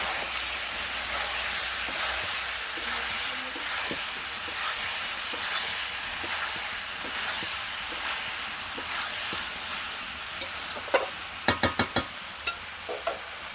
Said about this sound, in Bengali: দেখো এবার চিংড়ি মাছটা দিয়ে দেবো, দিয়ে ভালো করে কষে নেবো।